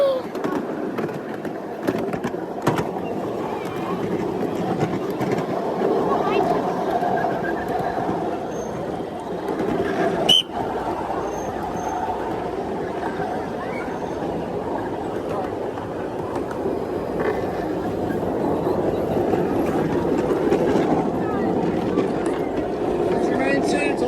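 Ride aboard a Tradewinds and Atlantic Railroad miniature train, a steady rumbling clatter of wheels on track with a sharp click near the middle, continuous and fairly loud, with voices talking over it.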